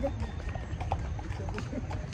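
Quick rhythmic hoofbeats of a ridden horse clip-clop at a trot in Baguio under steady ambient rumble, close by and moderately loud.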